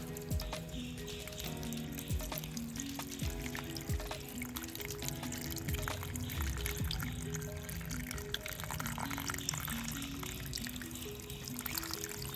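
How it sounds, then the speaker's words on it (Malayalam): Water pours steadily into a water lily growing in a pot, a continuous splashing gush that runs close and fairly even for about twelve seconds. "വെള്ളം കൊടുക്കാൻ പോവുകയാണ്"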